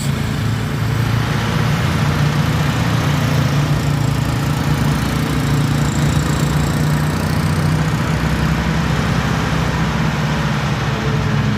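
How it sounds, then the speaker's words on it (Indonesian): A Nissan diesel truck hauling a container trailer runs its engine on a hill climb, producing a loud, steady low-pitched diesel drone with a rough throb that holds unchanged throughout. "Ya, ini truk Nissan diesel ya teman-teman."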